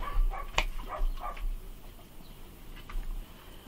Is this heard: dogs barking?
yes